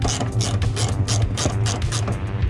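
Rapid ratchet clicking undoing 8 mm bolts on a 2010 Mazda 6 headlight, a close, quick run of pawl ticks in short bursts with no talk.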